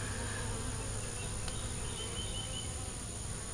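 Honey bees buzzing around a hive frame holding a queen cell and brood, a continuous quiet hum of many insects close by with no talk.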